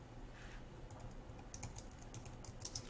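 Typing on a computer keyboard while entering HTML code, a steady run of light, quick key clicks at close range with no talking.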